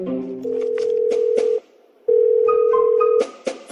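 A telephone line rings during a call with two long, steady electronic tone bursts, each lasting over a second and separated by a short silence, loud and close with no talk.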